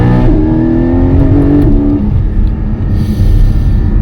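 Porsche 718 GT4 with a 4-liter flat-six engine revving loudly up through rising gear-like pitch sweeps, then settling into a steady close rumble, with no talking.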